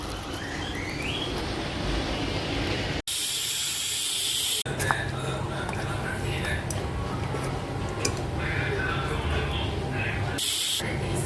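A pressure cooker cooking poricha kulambu lets out a sharp, loud hiss of escaping steam for about two seconds, then a shorter burst later, with a voice and kitchen noise between.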